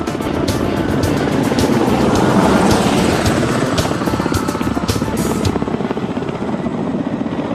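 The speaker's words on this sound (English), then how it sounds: "Ka-25 submarine Hunter starts off from the deck of the aircraft-carrying cruiser to perform a demo flight." A Ka-25 helicopter taking off from a cruiser's deck, its rotor thumping loudly and steadily nearby with a roaring engine whine, the powerful chopping continuing throughout.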